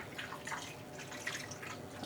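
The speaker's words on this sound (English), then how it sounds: "I'm going to pour on some of the water from the measuring cup." Water poured from a measuring cup onto yarn in a dye pot, a steady close trickle and splash of liquid running continuously for about two seconds with small drips.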